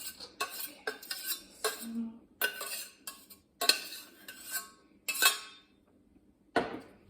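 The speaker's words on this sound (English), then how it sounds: "I'm just gonna mix that up before I add any sauces" A utensil stirs leftover chicken and rice in a pan. The scraping scoops come in close, irregular bursts with short pauses between them, and a faint sizzle sits underneath.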